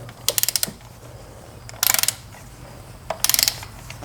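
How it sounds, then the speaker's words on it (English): A torque wrench clicks rapidly in three short bursts of ratcheting ticks while tightening spark plugs on a Nissan 4.0L V6 engine, close and crisp against quiet background hum. "We're going to use a torque wrench for that."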